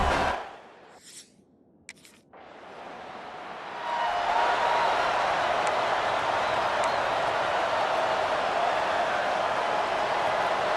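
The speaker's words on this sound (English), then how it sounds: "This crowd, full throat, splitting the eardrums" Stadium crowd roaring in the EA Sports College Football 26 video game, a broad sustained cheer that swells in after a brief quieter start and holds loud and steady.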